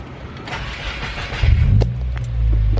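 A 2019 Subaru WRX fitted with an Invidia N1 single exit race exhaust starts up nearby, settling into a deep, loud rumbling idle with a droning low tone that swells slightly toward the end.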